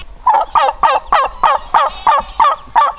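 Turkeys gobble repeatedly in a farm's main pen: about nine loud, close, rattling calls follow one another at a steady pace, with no talk over them.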